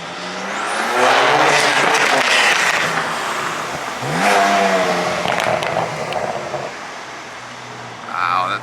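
A red Ferrari F80 engine revs hard and loud, with rising and falling surges and an accelerating pass, while people exclaim over it.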